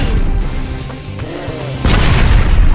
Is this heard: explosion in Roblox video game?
yes